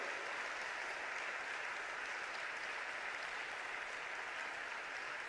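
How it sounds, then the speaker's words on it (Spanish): A church congregation applauds during a sermon, a dense, even wash of clapping that holds steady throughout with no distinct individual claps standing out. "dale un aplauso"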